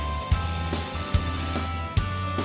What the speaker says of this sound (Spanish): Llamen a los teléfonos que aparecen en pantalla ahora mismo y voten por Yemaír o por Yolé